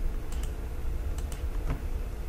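A computer keyboard in use at a terminal gives a few sparse, close key clicks and taps over a soft background hiss, with no talking.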